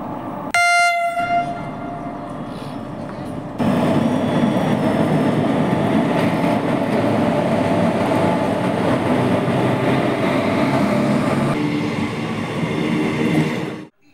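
A train pulls into a station with a loud, sustained rumble of wheels and carriages, opening with a short horn blast before the steady rolling noise fills the scene.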